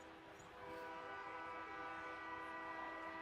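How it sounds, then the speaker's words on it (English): Train horns sound in a football video game simulation of a Bills game in Western New York: a faint, sustained multi-tone blast that swells and holds with no voices over it. "You know it when you hear the trains."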